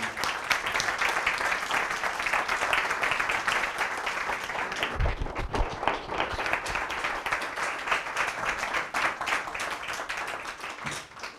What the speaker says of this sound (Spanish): con un aplauso, como se merece.